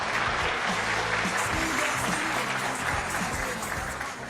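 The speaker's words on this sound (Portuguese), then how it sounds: "Então, salve de palmas aí pro Márcio, valeu!" Audience applause at a PHP developer conference in Curitiba, a steady, dense wash of clapping filling the room for several seconds and tapering slightly at the end.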